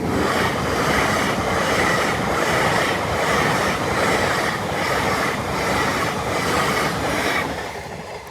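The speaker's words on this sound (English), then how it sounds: "Where could this other train be then? Oh, there it is." A train passes a level crossing at Rossington, loud and close, a dense continuous roar with a regular clickety-clack beat from the wheels that eases off slightly at the end.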